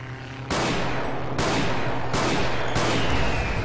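Gunfire from the World War II shooter game Forgotten Hope 2 on the Lenino map, aimed at an aircraft: loud, close bursts of rapid automatic fire in four back-to-back volleys with no talk over them.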